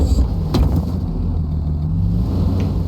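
Off-road truck engine in Offroad Mechanic Simulator rumbles loudly and steadily, a low revving drone that climbs slightly in pitch across the stretch, with a brief sharp knock early on.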